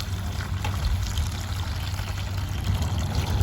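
Warm water pours steadily into a bucket, a continuous splashing rush with low rumble, close and alone without any talking.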